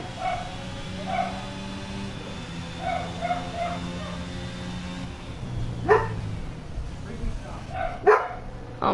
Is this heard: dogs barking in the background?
yes